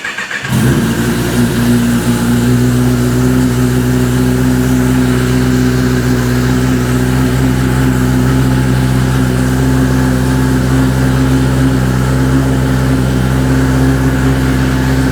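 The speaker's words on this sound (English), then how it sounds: "We're going to go ahead and start the engine." A Kawasaki Ninja ZX-10R sport motorcycle engine fires up after a brief crank, then holds a loud, steady high idle and rev with a strong droning hum throughout, close to the mic and without talk.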